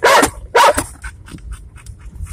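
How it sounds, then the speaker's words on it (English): A black Labrador dog gives two loud, close barks in quick succession, followed by quieter panting and soft yips. "Okay, you can bark now."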